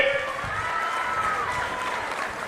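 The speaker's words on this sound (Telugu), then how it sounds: "ఇచ్చుంటే గట్టిగా చప్పట్లు కూడా చెప్పండి" A crowd at a political rally claps on request, a steady wash of many hands that sounds somewhat distant, with voices mixed in.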